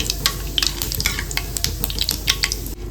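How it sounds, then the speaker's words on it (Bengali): Black mustard seeds and other ingredients for a chili pickle sizzle in hot oil in a pan while being stirred, with steady frying crackle and repeated scraping and clinking of the spoon against the pan. "দিয়ে এইগুলো হালকা একটু নেড়ে ছেড়ে নেব।"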